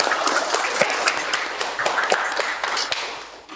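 A classroom of students applauds together, a dense, steady clatter of many hands clapping at close range that carries on without pause and thins slightly toward the end.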